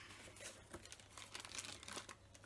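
Close, continuous crinkling and rustling of wrapping material as items are unwrapped from a parcel of wax melts, with busy papery crackles throughout and no voices.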